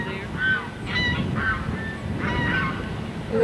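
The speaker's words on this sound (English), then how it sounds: "I guess there's a geese." Geese honk repeatedly outdoors on a rainy day in North Carolina, several overlapping calls at moderate distance over a steady rushing background of rain and wind, no talking.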